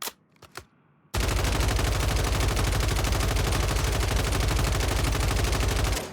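RAM 7 assault rifle firing in Warzone Rebirth, a continuous loud automatic burst of rapid evenly spaced shots running for about five seconds after a few quiet clicks and taps.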